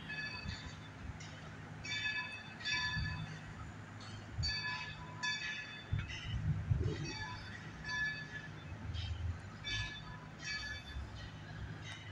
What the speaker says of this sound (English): the train sounds are a nice backdrop to all of this